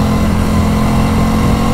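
Motorcycle engine drones steadily and close while the bike leans through corners, a loud continuous hum with no break or talk over it.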